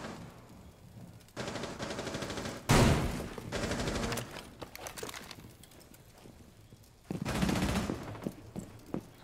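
Gunfire in a multiplayer shooter match: dense bursts of automatic fire fade in and out across the clip, the loudest starting around 2.7 seconds and again near 7 seconds, moderately distant beneath the game ambience.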